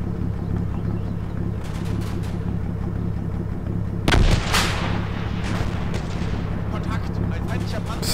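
In the Combat Mission game, a tank destroyer's gun fires a single heavy booming shot over a continuous low engine rumble, with faint crackles before the blast and a voice talking over the scene.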